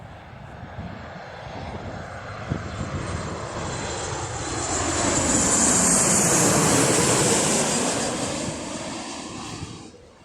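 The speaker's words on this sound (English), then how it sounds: "it looks like we've detected another 737 coming to land" A Ryanair Boeing 737 airliner approaches to land, its engine roar swelling from a distant hiss to a loud rushing peak overhead before fading away again, heard alone outdoors.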